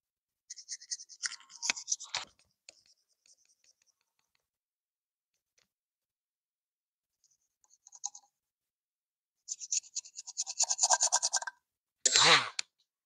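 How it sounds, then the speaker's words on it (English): A small razor blade scrapes an engine gasket surface on a 383 small-block build, sharp short raspy strokes in bursts separated by quiet pauses, close and fairly faint. "I'm going to use our little razor blade here just to get some of that surface stuff off."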